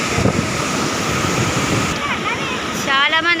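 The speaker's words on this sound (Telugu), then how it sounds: "ఎంత సౌండ్ వస్తుందో అసలు వాటర్ గేట్ ఓపెన్ చేసినందుకు." Powerful roar of water rushing through the opened dam gates at the Jurala project on a rainy day, a steady loud broadband wash that fills the scene, with a voice speaking over it toward the end.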